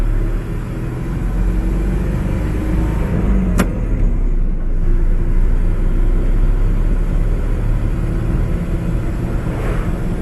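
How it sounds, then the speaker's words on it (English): A 1965 Ford F100 pickup with a 300 straight six and three-on-the-tree column shift, its clutch slipping in first gear, drives along with a loud, steady engine rumble and a sharp click partway through. "It's like it's the clutch slipping in first."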